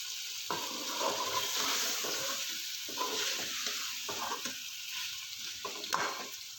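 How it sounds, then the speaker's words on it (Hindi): Potatoes fry in spices in a pan, a bright steady sizzle close by, with repeated scraping and stirring knocks of a spoon about every half second, no voices. "आलूओं को मसाले में जो है मैं 2 से 3 मिनट अच्छी तरह से भूनूंगी"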